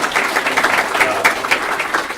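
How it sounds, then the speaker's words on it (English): Dense, continuous applause from a conference audience at a retro Apple II gathering, steady clapping filling the whole moment with slight swells, fairly close and loud, with no speech over it. "clap for Martin Hay"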